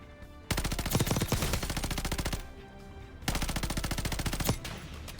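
Two loud, close bursts of rapid automatic gunfire in the video game Warzone, each a fast even stream of shots lasting about two seconds, separated by a short pause.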